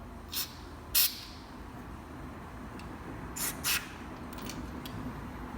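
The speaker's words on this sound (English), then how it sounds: "blow out all the passages with carburetor spray, and also along with compressed air" Four short, sharp hissing bursts of carburetor cleaner and compressed air blown through a small-frame Vespa carburetor, two close together near the start and two more later, over a low steady background hum.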